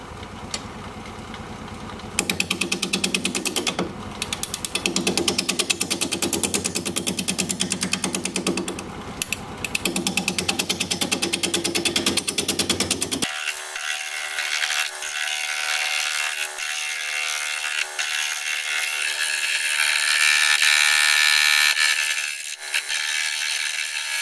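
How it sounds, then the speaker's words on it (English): A wood lathe turning an apple burl at about 560 RPM while a 5/8 inch bowl gouge cuts, giving a loud, continuous rough chatter and hum that smooths out partway through. "We're going to be turning at 560 RPM, 5/8 inch bowl gouge"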